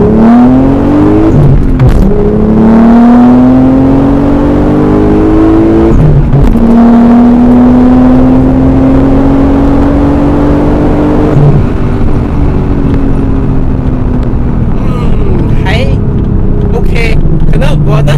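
A Nissan 300ZX Fairlady with a targa roof launches hard, its engine roaring loudly and rising in pitch through the gears. People talk over the engine.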